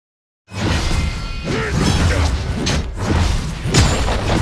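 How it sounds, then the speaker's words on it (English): A turret being destroyed in the mobile game Wild Rift, a loud sustained crash with whooshing and rumbling impacts that rises abruptly after a short silence and holds steady for several seconds. "Enemy turret destroyed."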